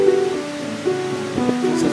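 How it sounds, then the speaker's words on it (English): Rain beginning to fall during a storm, heard from inside an open rail car as a steady broad hiss with a few faint tonal hums underneath and no talking. "Well, here comes the rain."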